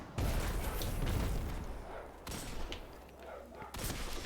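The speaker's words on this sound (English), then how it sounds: "I am going to use my rocket launcher" A rocket launcher heavy weapon fires in the Destiny 2 video game during a fight with Fallen enemies, with a loud roaring blast and rumble, then a second burst of explosions, under dense game noise.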